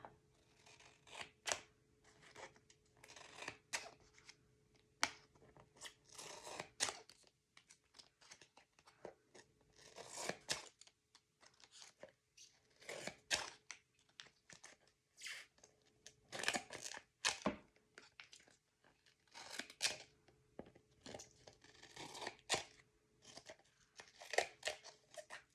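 Scissors cut through a sheet of Tyvek for an album cover, producing many crisp, close crunching snips in irregular bursts with short pauses between them, and no one talking.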